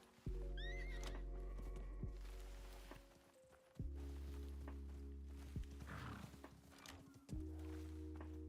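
A horse in a survival video game whinnies several times in loud, clear calls, with snorts and hoof thuds between them, close by and without talk.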